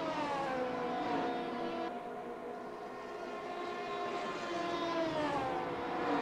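A police car siren wails continuously in a sim racing game of a GT3 race at Spa, the rising and falling tone steady and loud over a dense bed of engine and track noise.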